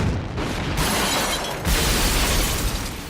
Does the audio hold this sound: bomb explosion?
yes